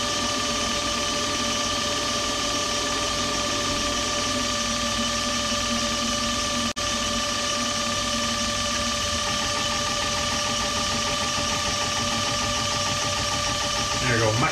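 A Bosch EPS205 test bench runs a 6.7 Cummins diesel injector inside its closed test chamber. The machine gives a steady mechanical drone with a fast ticking pulse, close and continuous, and a voice speaks over it.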